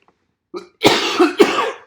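A couple of harsh, close coughs in quick succession after a brief throat sound, with silence around them.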